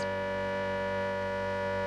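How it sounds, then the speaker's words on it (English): A loud, sustained flood warning siren in South Canterbury holds a steady wailing tone for the whole span, with no other sounds. "each night there's a warning siren at 10 to 6"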